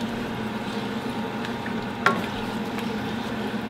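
A spoon stirring ingredients in a sizzling pan of Filipino food, a steady soft frying hiss with scraping movement and one sharper clink partway through.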